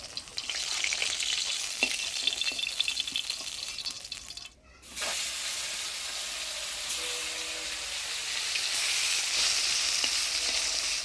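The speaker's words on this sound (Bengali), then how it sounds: "আমি মাছটা ভাইজে নিই" Fish fries in a pan over a village-kitchen stove, giving a loud, continuous close-up sizzle and crackle that cuts out briefly midway before resuming, with a faint voice and water sounds underneath.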